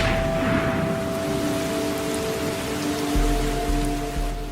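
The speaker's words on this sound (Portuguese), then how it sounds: "Cerca de 250 centímetros de chuva caem todos os anos." Steady, dense rain falls in the Amazon rainforest, a constant hiss of drops on foliage that continues evenly throughout with no voices.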